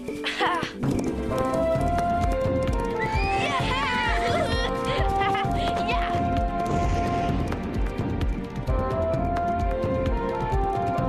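Cartoon horses whinny and neigh over a lively music score with hoof clatter and crashes, with a voice talking over the busy soundtrack.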